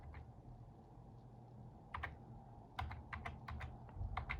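Sparse keystrokes on a computer keyboard, quiet and close, starting after a short pause and coming in irregular clicks and small bursts over a low background hum.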